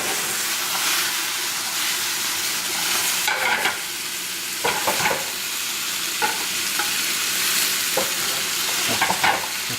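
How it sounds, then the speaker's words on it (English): Carrots fry in a pan with a loud, steady sizzle and hiss, broken now and then by short scraping bursts of stirring, with no voices. "Fry for a while."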